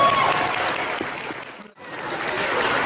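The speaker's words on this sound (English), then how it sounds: "Big round of applause for our best athletes" Crowd applause for winners at a CrossFit competition, dense clapping that briefly cuts out mid-clip, then swells back to full strength.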